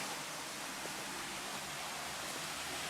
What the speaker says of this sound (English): It's just the lake and it's just running a river down here.